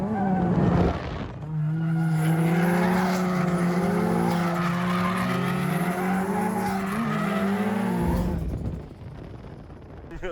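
A drifting car screams through a long sustained tire squeal with a loud engine howl underneath, close and continuous for several seconds before cutting off.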